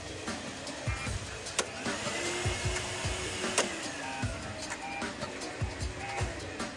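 Henry Numatic vacuum cleaners run on a factory test bench, a steady broadband machine whir with scattered clicks and knocks from the testing rig, moderately loud and continuous throughout.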